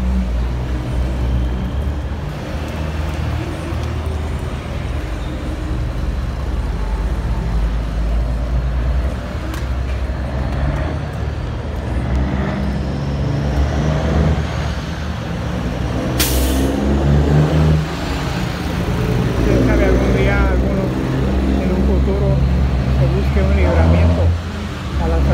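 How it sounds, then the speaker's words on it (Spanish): Steady road traffic at a roundabout on Avenida Morelos and Salvador Allende in Zacapu, Michoacán, Mexico, with cars, buses and trucks passing close by and a sharp air-brake hiss partway through, under continuous engine rumble. "Así está el tráfico por aquí, miren."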